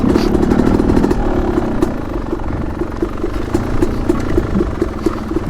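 A Yamaha YZ250X two-stroke dirt bike engine running just after a pop start, a loud, close, rattly idle with a fast regular putter and slight revving, no voices.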